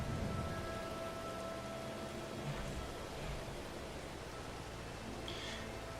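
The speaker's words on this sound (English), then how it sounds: "I mean, it's still drizzling." Light drizzle in Farming Simulator 22, a steady soft hiss of rain with faint low rumbles and a brief brighter patter near the end, continuous throughout with no talking.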